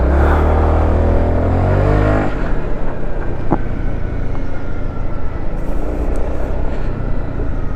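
A Honda SH 350i twist-and-go scooter being ridden through the city, a loud, close engine hum that fades into steady road and wind rumble, with no one speaking.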